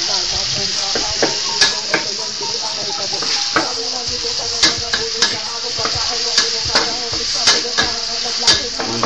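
Onion sautéing for bistek tagalog, a steady sizzle and frying hiss in a pan with frequent stirring scrapes and taps of a utensil, close and continuous with no talking.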